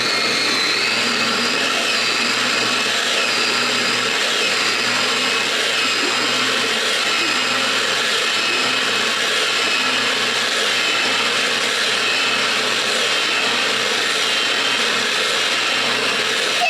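A blender mixes guacamole with a steady, loud, unbroken motor whir and grinding that runs nonstop for the whole stretch, with no voices.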